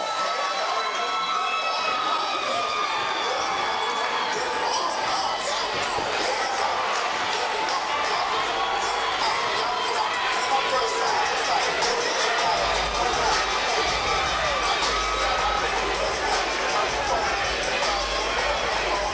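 A crowd cheers and roars continuously at an ECCF 12 title fight event, a dense, loud wash of voices under a commentator's talk throughout.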